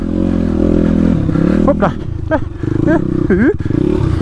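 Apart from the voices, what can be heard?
dirt motorcycles riding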